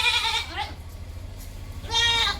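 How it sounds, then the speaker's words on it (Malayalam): Young female Beetal cross-breed goat kid, about three months old, bleating twice close by, a wavering cry at the start and another after a short pause, over a low background rumble. "ഷേറ ബീറ്റലിൽ ക്രോസ് വന്ന നല്ലൊരു ആട്"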